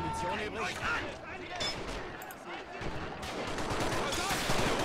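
Gunfire in Men of War: Assault Squad 2 during a Stalingrad battle at Mamayev Kurgan: distant, fairly faint bursts of rifle and machine-gun shots rattling continuously under a busy battlefield mix.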